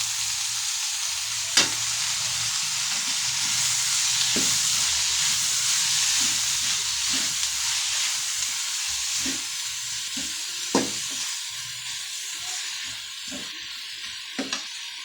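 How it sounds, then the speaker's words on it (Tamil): Onions and tomato sautéing in oil in a pan for a kara boondi gravy: a continuous, fairly loud sizzle runs throughout, broken by occasional sharp clicks of a spoon stirring against the pan. "வெங்காயம் ஓரளவுக்கு வதங்கிடுச்சு இந்த கட் பண்ணி வச்சுருக்க தக்காளி இதில் சேர்த்துக்கலாம்"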